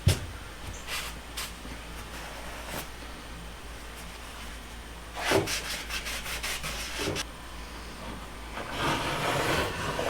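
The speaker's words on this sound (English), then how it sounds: "Now I'm just going to take some rags and clean up my glue." Rags wiping wood glue off a timber shed window frame: steady, close rubbing and scrubbing strokes in uneven bursts, with a few knocks and a louder swipe midway.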